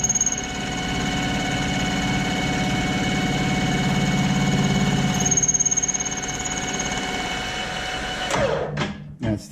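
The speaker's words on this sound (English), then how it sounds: "That's the lathe." A metal lathe in an artist's studio workshop runs at a steady, close hum with even motor tones, then winds down and stops near the end.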